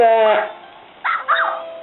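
A couple of short, synthetic dog barks and yips from a Nintendo-style pet game, with a bright, tinny game-audio quality, close and clear.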